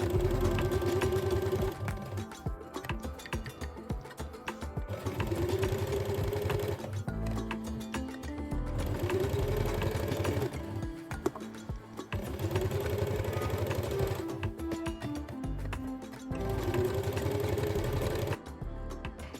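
A sewing machine stitching a crop top runs in steady, fast whirring bursts with brief pauses between passes, close and fairly loud, with no talking.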